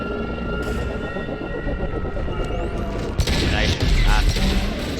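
Gunfire in Mass Effect 2 combat, bursts of shots and booms growing louder toward the end over a continuous background din of the game, with voices partly mixed in.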